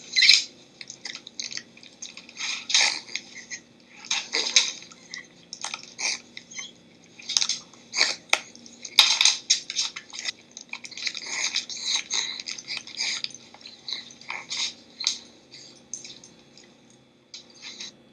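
A dog named Lucy chews a treat up close, with steady wet, squishy chomping and smacking sounds continuing in an irregular rhythm throughout, and no one talking.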